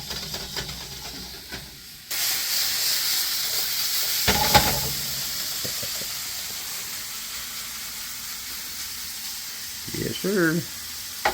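Food sizzling on an outdoor grill, a steady hiss that starts abruptly and continues under a few short bursts of a man's speech and some scraping handling noises.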